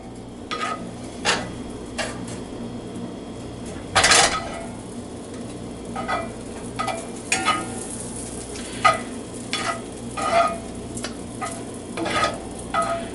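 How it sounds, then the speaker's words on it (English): A steady sizzle of butter frying in a pan runs throughout, broken by repeated clinks and scrapes of a utensil stirring against cookware. "now the pan is definitely starting to sizzle."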